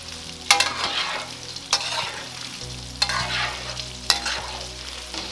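Battered pork pieces deep-fry in oil for Cantonese sweet and sour pork, a constant bubbling sizzle broken by a few sharp bursts as the pieces are stirred.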